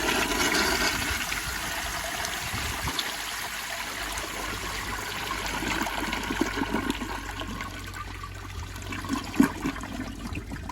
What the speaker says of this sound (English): Here's another flush, put the seat down.